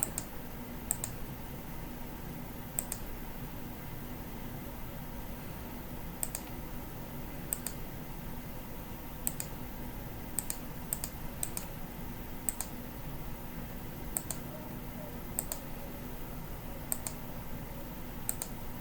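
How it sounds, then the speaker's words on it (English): Keyboard and mouse clicks at a computer while working in Photoshop, with sparse sharp taps spaced irregularly over a faint steady room hum, no voices. "I right click on the image from the layer. I click on rasterize layer."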